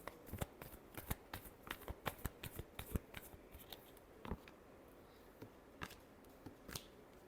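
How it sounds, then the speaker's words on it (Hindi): Tarot cards being shuffled by hand, a run of crisp riffling clicks and flicks at close range, dense at first and then thinning to scattered taps, with no talking. "Last shuffle."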